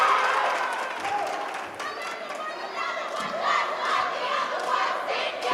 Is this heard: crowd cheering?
yes